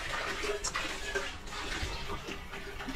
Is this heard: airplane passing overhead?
no